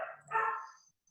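A puppy gives two short, close barks in quick succession, a sharp yip followed by a slightly longer bark, then quiet.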